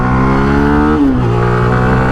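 Zontes 350X motorcycle engine revving hard after a downshift, its steady loud drone dipping briefly then pulling up again with rising pitch, close and continuous.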